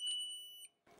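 A new piezoelectric alarm unit for a 1997 Land Cruiser, muffled with tape, emits a faint, thin, steady high beep for about half a second before cutting off. A brief soft noise comes after it.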